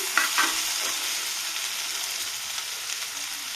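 Pointed gourd fries in a pan, sending up a steady bright sizzle with a few stirring scrapes near the start, then settling into an even hiss.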